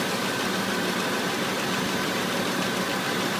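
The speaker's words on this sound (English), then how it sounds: "And the compressor is on." A car engine idles with its automotive AC compressor running during a system recharge, a steady, loud, even drone with a constant hum and no voices.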